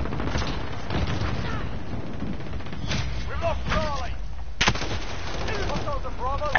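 Call of Duty Modern Warfare gunfire pops in scattered shots and short bursts over a steady game bed, with brief voice-like chatter mixed in.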